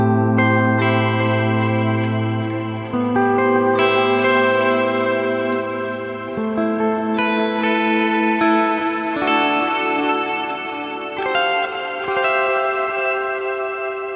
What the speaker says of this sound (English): because of those reverb and delay effects, it kind of feels stereo